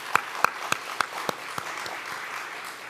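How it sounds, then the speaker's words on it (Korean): A church congregation applauds, with a scattering of distinct claps at first, then a softer, diffuse round of clapping that fades over a few seconds. "식탁 봉사해 주신 오성교회 여러분 감사의 박수 드립니다"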